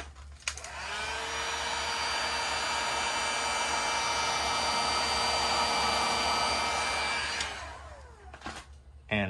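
A heat gun or hair-dryer-style blower roars steadily for about eight seconds, warming piano black high-gloss vinyl wrap on a Camaro, then cuts off, leaving a few faint handling clicks.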